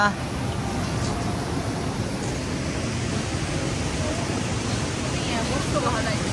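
A river rushes past close to the riverbank as a steady, fairly loud broadband roar that continues without a break, with voices faintly present underneath.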